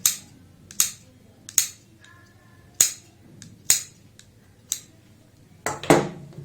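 Crisp, sharp snips repeat at a steady pace, about eight short cuts with quiet gaps between, close and clear with no talking.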